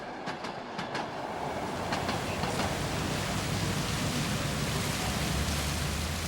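Trans-Siberian train pulling into Ulan-Ude, Buryatia, its last stop in Russia: a steady rumbling roll with clacking wheels and hissing noise throughout, with no voices.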